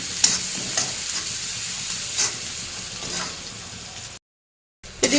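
Chili and onion fry in a pan with salt and turmeric, a constant sizzle broken by stirring scrapes at a steady pace, then a short silent gap and a louder clatter.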